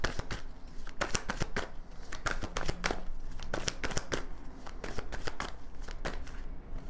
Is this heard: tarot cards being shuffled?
yes